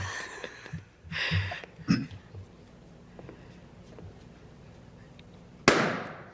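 A balloon popping at an outdoor dating-game street interview, one sharp loud bang near the end after a few softer earlier knocks, with people talking around it.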